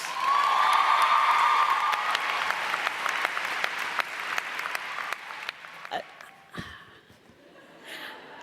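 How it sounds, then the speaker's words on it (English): A commencement crowd greets a graduate with loud sustained clapping and a few whoops, the applause thinning and fading over the last seconds as scattered claps trail off. "Would you please join me in welcoming Alivia with a round of applause?"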